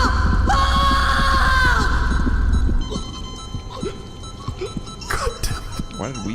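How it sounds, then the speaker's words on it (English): In the sci-fi horror game Stasis, a survivor screams loudly for nearly three seconds, a harsh sustained shriek over a low rumble, followed by quieter scattered clicks and eerie tones. "I heard screaming."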